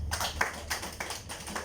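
A small group of construction trainees at a safety induction in Sharjah claps briefly, individual claps audible as a quick uneven patter close by.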